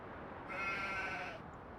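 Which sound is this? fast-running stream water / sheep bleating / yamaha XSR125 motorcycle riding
sheep bleating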